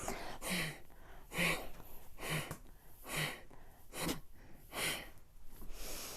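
Slow, deep breaths during a yoga practice, each a soft, audible airy rush close to the mic, repeating in a steady rhythm roughly every second, fairly faint.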